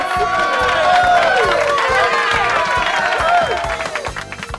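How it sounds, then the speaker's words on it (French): At a school circus show, spectators applaud and cheer loudly while children's voices shout over the crowd and a rhythmic music beat plays beneath. "À ce moment, les spectateurs applaudissent."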